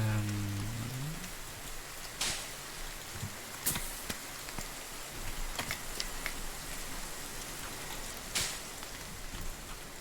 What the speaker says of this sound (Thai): อยู่ดีๆฝนก็ตกเฉยเลย